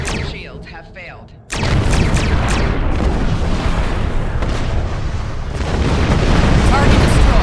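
An enemy starship explodes in Star Trek Online with a sudden loud boom, followed by a sustained roaring, crackling blast that stays dense and close for several seconds.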